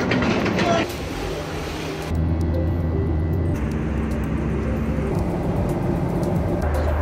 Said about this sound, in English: We are sitting in the airplane right now.